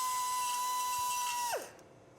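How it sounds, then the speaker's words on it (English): A drill countersinks a hole in metal with a steady, close, high whine for about a second and a half, then winds down quickly as it stops. "So I'm gonna go ahead and countersink this just a little bit."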